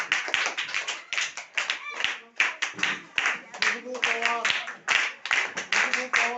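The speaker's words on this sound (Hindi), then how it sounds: "शाबाश, तालियां बजती हैं," Audience clapping for children at a school speech competition, brisk and fairly near, with a voice talking over it and calling out names.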